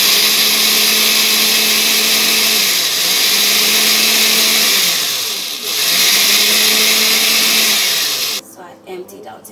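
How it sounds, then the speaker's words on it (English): A countertop blender grinds rolled oats into flour, a loud, steady whirring motor that dips briefly in pitch twice as the load shifts, then cuts off near the end. "So what I did was throw it into the blender like this and I blend it."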